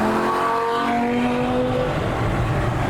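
A Lamborghini Gallardo Performante accelerating past on a motorway, its engine note rising and sweeping by close and loud against steady road and wind noise, no talking.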